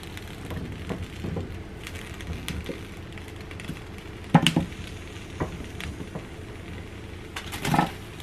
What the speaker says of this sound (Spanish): Voy a asar también los dos dientes de ajo